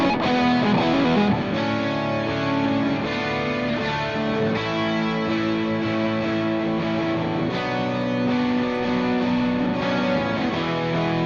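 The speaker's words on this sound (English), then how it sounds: "Let's bring in the rhythms. There's our lead solo." Distorted electric guitars played through an amp simulator for rock tones, with layered rhythm parts and a lead solo on top, forming a dense, steady, loud wall of sound with no talking.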